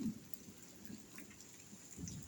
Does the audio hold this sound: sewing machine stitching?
no